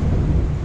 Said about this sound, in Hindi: ये लग रहा है आज पूरी रात ही होगी बारिश